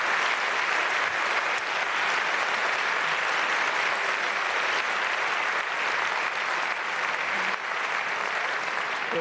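Sustained, dense audience applause at the FDP Epiphany party rally in 2020, a steady wash of clapping hands that stays loud and even throughout with no voices over it.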